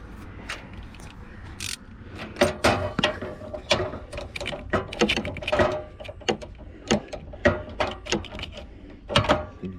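A socket ratchet wrench turning 3/8 bolts while installing a Victron inverter in a 2004 Newmar Dutch Star RV, giving rapid, close clicking bursts in irregular runs.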